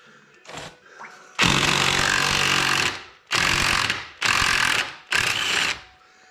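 Battery-powered impact wrench on a Ford Taurus under rebuild, loosening bolts: a short hammering burst, then one long loud rattling run followed by three shorter bursts with brief pauses between.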